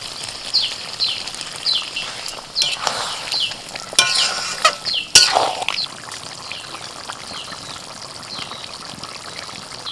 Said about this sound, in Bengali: আর একটুখানি গ্রেভি করার জন্য আমি সামান্য একটুখানি জল দিচ্ছি